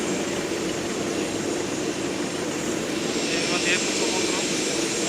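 Airplane engine on a flight from Lampedusa to Rome, a steady loud broadband cabin roar that continues unchanged for the whole stretch.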